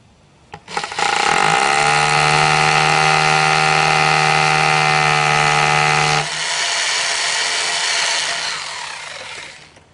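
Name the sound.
power drill drilling a 1/4 inch anchor hole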